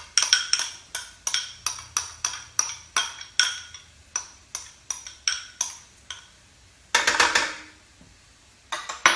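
Repeated metallic clinks and scrapes of a spoon stirring garlic into softened onions and bell peppers in a pot, a steady rhythm of sharp taps with a brief louder scrape burst partway through, close and clear with no talk.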